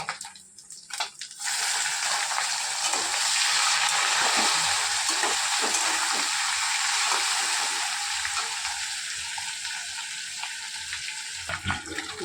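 Fish head frying in hot oil as fish roe is added, a loud steady sizzle that swells right after the roe goes in and continues unbroken for several seconds, with a few clinks near the end.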